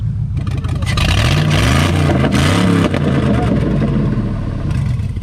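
A turbocharged GMC Yukon XL engine revs hard up close, a loud throaty roar with rising and falling pitch, continuous and dominating throughout.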